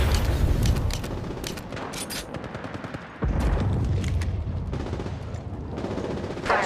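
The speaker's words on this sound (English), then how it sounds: "Getting shot at." Gunfire in the mobile hero shooter Apex Legends Mobile: rapid automatic bursts and single shots crackle loud and close, with a short pause midway before the firing resumes, over game sounds.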